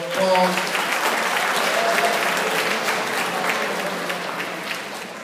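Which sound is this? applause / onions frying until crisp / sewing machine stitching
applause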